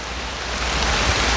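Steady rainfall at a cassava field, a dense, even hiss of drops that holds without a break and grows slightly louder, with no voices.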